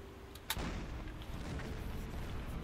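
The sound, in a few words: submarine deck gun firing in the video game Silent Hunter 4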